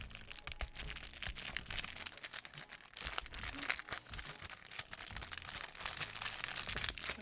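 Plastic packaging crinkles and crackles continuously up close as stickers are unwrapped, with dense rustling and occasional sharper crunches throughout.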